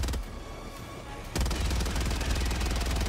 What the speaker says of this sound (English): I've got an anti-material rifle.